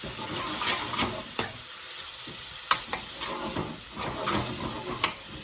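Prawn bhuna curry with tomato chili paste and garlic sizzles steadily in a pan, a constant frying hiss broken by several sharp clacks of a spoon scraping and stirring.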